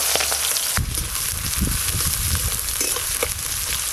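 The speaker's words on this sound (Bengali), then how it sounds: "আপনারা ঠিক দেখুন, পেঁয়াজ ভাজা হচ্ছে" Chopped onions hit hot mustard oil in a wok, already seasoned with whole garam masala, and produce a loud, dense sizzle broken by scraping stirs.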